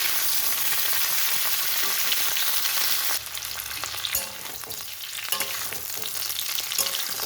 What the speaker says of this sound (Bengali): কপিটা ভাজা হচ্ছে, কপিটা খুব ভালো করে ভেজে নিতে হবে।